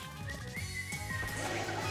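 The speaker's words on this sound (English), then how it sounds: "Hey, I whistled, didn't I?" A character in the video game Miitopia whistles a short, wavering, rising-and-falling tune over game background music.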